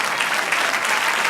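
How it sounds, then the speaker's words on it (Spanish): A church congregation claps in sustained, dense applause, loud and steady throughout with no voices standing out. "Den un aplauso al Señor."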